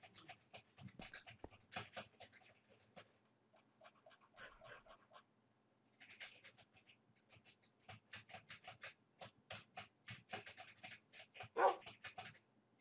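A dog pants in a blocky sandbox video game, with quick, steady, rhythmic breathing that carries on almost without a break at a soft level.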